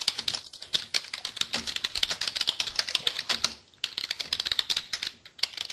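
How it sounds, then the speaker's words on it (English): Rapid, forceful clicking of computer keys, hammered continuously with a brief pause near the middle, close and fairly loud. "Who the hell's beating up their keyboard?"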